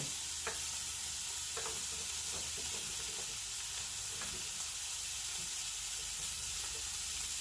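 Asparagus sizzles softly and continuously in a hot pan, a steady frying hiss with occasional faint pops and clicks, no talking.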